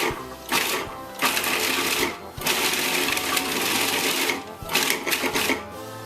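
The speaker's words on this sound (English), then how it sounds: "run it briefly through the food processor, just to grind it up a little bit" A food processor chops beef fat in several short bursts, its whirring motor rising and cutting out in quick pulses close by.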